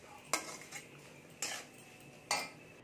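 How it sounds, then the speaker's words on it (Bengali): Three sharp metal spoon scrapes and clinks against a pan while small shrimp are stirred with spice masala and water, spaced about a second apart over a quiet, faintly simmering background. "এখানে আমি জল দিয়ে পুরোটা ঘেটে দিয়েছি"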